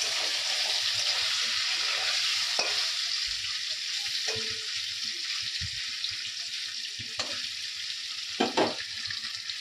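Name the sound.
paneer frying in a pan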